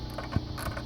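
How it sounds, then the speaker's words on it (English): A 10 mm wrench loosening bolts on the recoil starter of a Champion generator produces a few brief metallic clicks and a small knock close by over a low background hum. "You just take the 10 millimeter, and you loosen these"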